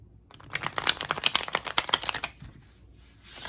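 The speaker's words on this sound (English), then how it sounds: "So let's see how this deck shuffles." A tarot card deck riffle-shuffled in a quick burst of crisp, rapid flutters, close up, followed by a brief softer shuffle and a rustle at the end.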